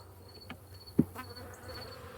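Angry honey bees swarm around an opened hive, a faint steady buzzing hum running throughout with a brief soft thump near the middle.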